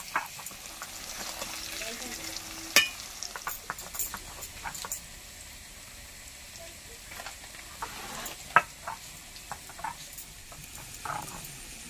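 Potato pieces frying in hot oil in a home kitchen, a faint steady sizzle broken by scattered clicks and taps of a utensil, with no talk.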